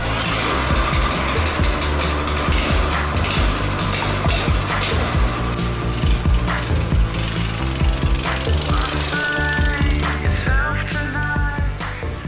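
A power tool tightens a lock nut on a minibike, giving a loud, continuous rattling impact-like clatter with dense rapid hits, close up and unbroken throughout, with no speech.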